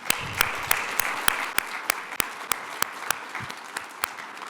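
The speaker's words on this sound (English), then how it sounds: "I hope you could hear the applause" Audience applause after a keynote at a financial system conference, a steady wash of clapping with sharp individual claps standing out at a regular pace, moderately distant and continuous throughout.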